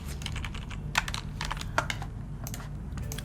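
Quick bursts of keystrokes on a computer keyboard while a name is typed into an ID card design in Adobe Illustrator, with close, crisp clicks and a couple of sharper taps, no talking.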